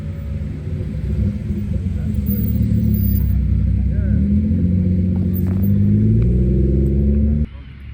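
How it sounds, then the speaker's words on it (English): BMW M340i with a tune, its engine rumbling loudly and steadily at close range with small rev blips, cutting off sharply near the end, while people talk over it. "Little rev, little rev, little rev."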